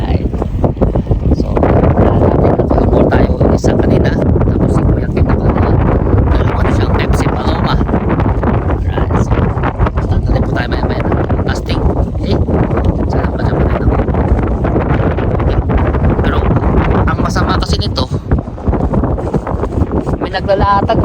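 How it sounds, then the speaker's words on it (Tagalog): Strong wind roars and buffets the microphone without letup at a fishing spot, a loud rushing noise with voices talking faintly underneath. "malakas pa ng palakas yung hangin"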